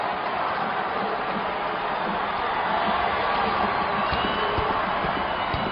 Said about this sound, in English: Crowd on its feet on both sides of MetLife Stadium